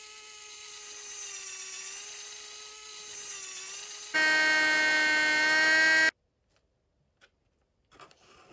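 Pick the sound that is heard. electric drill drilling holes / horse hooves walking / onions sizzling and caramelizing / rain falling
electric drill drilling holes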